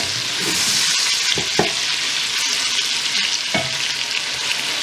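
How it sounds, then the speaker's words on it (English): Onion and pre-cooked tomato sauce fry in a pot for goat meat jollof rice, a dense continuous sizzle close by with a few sharp clicks and scrapes of stirring, no voices. "So I'll add my onion and cook for a few minutes, and then I'll add my tomato sauce."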